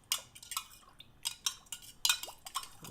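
A mixture is gently stirred in a pot, giving a run of close, bright metallic clinks and scrapes in quick, uneven strokes, with no talking.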